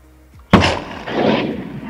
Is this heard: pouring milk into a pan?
no